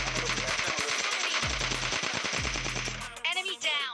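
SCAR-L assault rifle fire in PUBG Lite, a loud, rapid, continuous automatic burst with brief pauses between strings of shots, ending in a short trailing noise.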